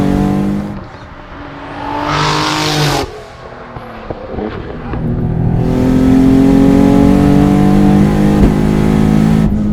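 A 550 HP twin-turbo Infiniti G35 coupe with about 40,000 miles on the chassis accelerates hard, its engine revving loud and close as the pitch climbs steadily, drops briefly at a shift, then builds again to a sustained high drone.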